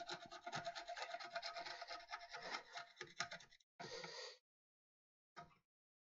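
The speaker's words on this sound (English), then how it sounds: "Just scraping off some of the excess glue." A hand tool scraping excess glue off a laminated wood workbench top, a run of close rasping strokes in quick rhythm, then two shorter separated scrapes after pauses.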